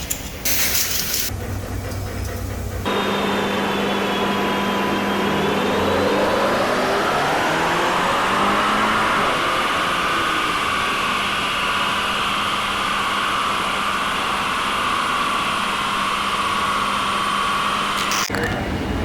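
A car with a stage 1 ECU remap drives on the road. Its engine drones steadily and rises smoothly in pitch as it accelerates, loud and continuous after an abrupt start.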